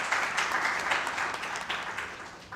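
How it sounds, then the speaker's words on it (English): Moderate audience applause at an academic conference honoring a professor, a roomful of hands clapping steadily at medium distance, slightly uneven and tapering toward the end. "A huge round of applause for her."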